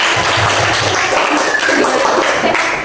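Classroom applause for a student group after their presentation, a short burst of clapping from a small crowd of pupils, moderately loud and fairly brief.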